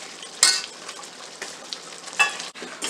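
Small paneer cubes frying in rising oil for makhani paneer, a steady close sizzle with brief louder crackling bursts and faint stirring, no voices.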